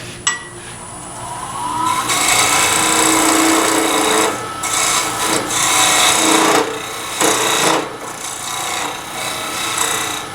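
A skew chisel cuts a square tenon into spinning wood on a lathe, giving a steady, close rasping shear that runs nearly continuously with a few short breaks as the tool is lifted and reset.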